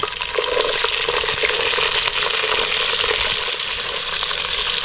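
Green chillies and onion frying in a pan with cashew pieces and whole spices for green masala pea rice, a loud, dense, unbroken sizzle heard close and steady throughout, with no talking.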